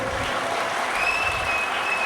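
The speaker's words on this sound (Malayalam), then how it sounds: "നല്ല കൈയടി നമുക്ക് കൊടുത്തൂടെ?" Sustained applause from an audience at an Onam community gathering, dense and steady clapping that fills the whole moment without a break.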